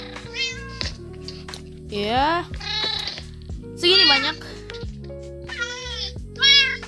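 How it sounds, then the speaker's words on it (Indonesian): Several cats meow in a video game, rising and falling calls repeating at irregular intervals, loud and close over steady background game music while a person talks. "kalian pasti dengar suara-suara kucing itu"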